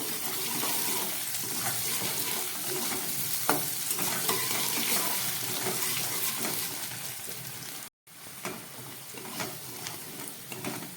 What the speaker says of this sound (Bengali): নুন হলুদ দিয়ে আমার আলু ভাজাটা হয়ে গেছে